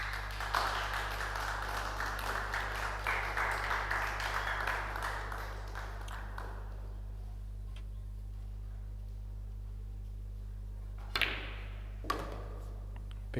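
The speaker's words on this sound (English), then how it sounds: "Big round of applause from our other table," Applause from a neighbouring table at a Predator EuroTour Spanish Open pool semifinal, a broad dense clatter of clapping for the first several seconds that fades into a quiet hall, followed by a couple of sharp isolated knocks.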